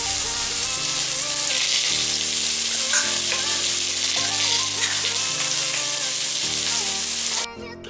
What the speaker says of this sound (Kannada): ಜೊತೆಗೆ ಶುಂಠಿ ಬೆಳ್ಳುಳ್ಳಿ ಪೇಸ್ಟನ್ನು ಹಾಕಿ ಚೆನ್ನಾಗಿ ತಿರುವೋಣ.